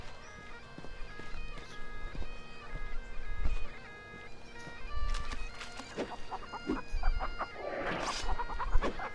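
Chickens cluck and a rooster crows in a village scene from The Bard's Tale game, steady fowl calls over ambient background with a brighter squawk near the end.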